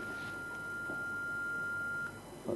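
A single steady telephone line beep sounds during an incoming call, holding for about two seconds at low level before cutting off, followed by a faint brief tone.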